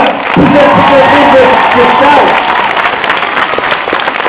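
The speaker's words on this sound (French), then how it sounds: "On peut applaudir Méline qui est là." An audience applauding at a comedy premiere in Brignais, with loud, dense clapping and crowd noise that stays fairly steady and close, mixed with voices throughout.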